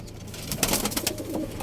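Pigeons in a coop, among them the flock's oldest grandfather birds, coo in soft low bursts that swell in the middle and then settle, close by and moderately loud, with no speech.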